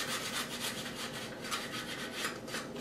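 Weathering is rubbed off a model kit roof with steady, close scrubbing strokes, a rhythmic raspy friction repeating back and forth without talk.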